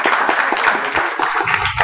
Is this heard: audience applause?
yes